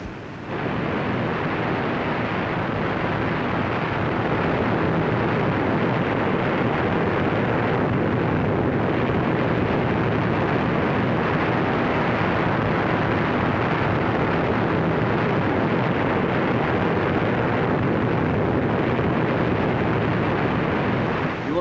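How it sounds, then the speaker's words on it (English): Tower Falls waterfall in Yellowstone roars as a steady, loud, broadband rush of falling water that continues unbroken throughout. "awaiting you now at the top of this moving panorama is an eyeful and an earful of the famous Tower Falls"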